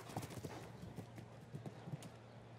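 Hooves of a horse on course at the La Baule show jumping derby sound as soft, irregular thuds, faint and somewhat distant, with a few louder strikes over a quiet crowd-like background.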